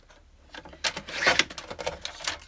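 Paper belly bands for a handmade roses journal being trimmed on a paper trimmer, a quick close-up series of sharp clicking and slicing strokes lasting a couple of seconds, with no talking.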